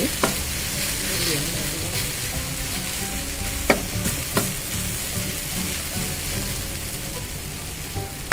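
Boiled pork belly pieces stir-fried in a pan with fragrant aromatics, a steady loud sizzle with occasional scrape-like clicks of stirring, no voices.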